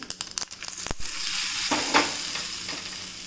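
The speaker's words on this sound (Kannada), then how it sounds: "ಈಗ ಕೊನೆಯದಾಗಿ ಇದಕ್ಕೊಂದು ಒಗ್ಗರಣೆ ಕೊಡ್ತಾ ಇದ್ದೇನೆ." A tempering of coconut oil with mustard seeds and pepper sizzles hard in a small hot ladle, starting with sharp crackles and pops that settle into a steady hiss, fairly close and alone.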